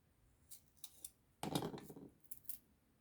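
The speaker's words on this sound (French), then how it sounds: "sur le trait de chaque côté et je coupe" Scissors snip through paper while an envelope album is being made, a few light cuts followed by a longer close crunching cut, quiet and near with no talking.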